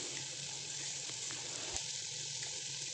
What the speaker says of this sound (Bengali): এই নুন হলুদ দিয়ে ভালো করে আলুটা আমি এখন নাড়িয়ে ভেজে নেব।